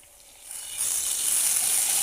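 Garlic paste hitting hot oil with browned onions in a pan, a soft sizzle that swells abruptly into a loud, steady frying hiss and holds there, close and continuous with no voices.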